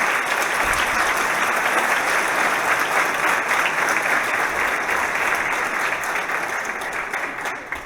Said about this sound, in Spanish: Por eso yo les pediría un aplauso para el doctor José Alejo Cortés por lo que él representa